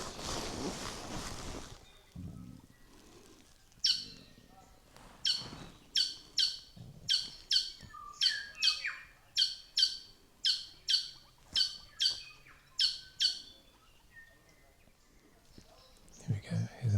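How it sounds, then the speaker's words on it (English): Stitchbirds call in a lakeside bird sanctuary, a run of sharp repeated chirps in quick rhythm, fairly close and clear, with quiet rustling at the start and end. "here's another stitch bird coming in."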